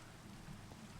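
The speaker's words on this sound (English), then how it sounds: "Also doesn't help it's like super rainy." Rain falls in the video game Minecraft, in the Vault Hunters modpack, a soft continuous wash of drops with a faint low rumble, steady and quiet throughout.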